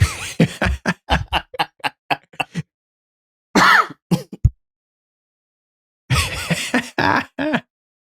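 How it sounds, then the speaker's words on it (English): A person coughs and clears their throat in a few harsh, close bursts separated by silences, with grunting, strained breaths between them. "Yeah, made me cough."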